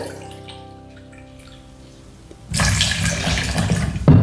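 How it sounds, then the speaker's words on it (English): A quiet hum gives way to a steady rush of water pouring into a container, loud and close, ending with a splash. "I'm add another cup of clean water"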